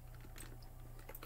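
Scattered computer keyboard keys tapped while steering in BeamNG, a handful of soft, irregular clicks spread across the moment over a low steady hum.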